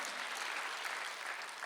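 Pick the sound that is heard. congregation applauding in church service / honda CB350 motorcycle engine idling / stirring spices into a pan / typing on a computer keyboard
congregation applauding in church service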